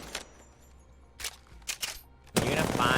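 Automatic weapon fire in the Apex Legends video game, a few short separated bursts followed by a sustained loud spray of rapid shots at close range.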